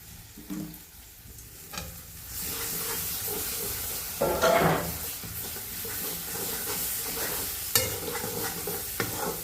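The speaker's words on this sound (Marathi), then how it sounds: "आता आपण प्रथम कांदा पेस्ट टाकून घेऊया" Onion paste dropped into hot oil with spices for a Bombay duck curry, bursting into a loud, steady sizzle and steamy hiss, with a spoon stirring and scraping the pan close by.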